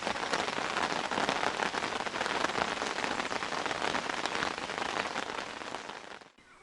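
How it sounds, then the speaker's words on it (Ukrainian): Steady rain pours down by the Dniester River, a dense hiss of drops on surfaces that holds evenly and then fades out at the end. "Це дощик зарядив"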